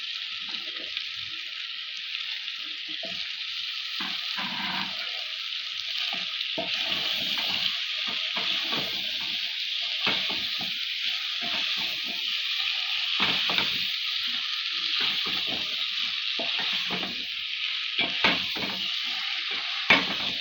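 Food fries in oil in a pan while being stirred, a steady close sizzle broken by repeated scraping and clinking strokes of a spoon, with no voices.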